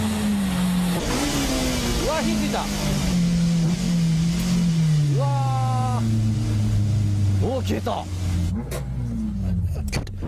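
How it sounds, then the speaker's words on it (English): Honda S2000 race car engine revving hard with a falling, strained tone as it fails and blows up mid-race, loud and close, with excited commentary talking over it throughout. "retires with a blown engine to end the race"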